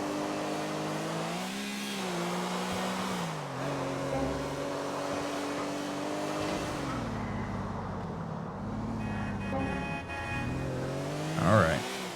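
A sports car driven in Grand Theft Auto 4 holds a steady engine drone with rising and falling revs throughout, loud and close, with a voice talking over it at times.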